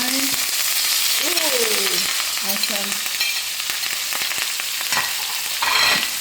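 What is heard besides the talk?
garlic and fresh thyme sizzling in pan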